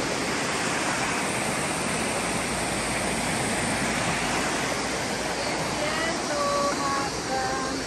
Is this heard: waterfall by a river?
yes